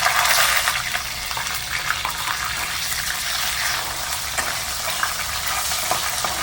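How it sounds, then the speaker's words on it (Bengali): Capsicum pieces added to a bubbling paneer gravy in a pan, giving a dense, hissing, watery sizzle with faint stirring noises, steady and close, no voices. "এবার এর মধ্যে আমি ক্যাপসিকামগুলো দিয়ে দিচ্ছি"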